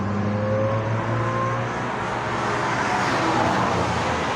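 Cars and other vehicles rush past along a main road, close and loud, with engines swelling and fading as they go by in a continuous stream of traffic noise.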